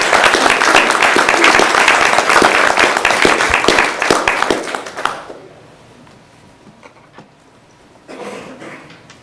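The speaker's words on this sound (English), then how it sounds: "One last round of applause to all of our" A round of applause at a school board meeting, dense clapping from a crowd for about five seconds that then fades to scattered claps and quiet room noise.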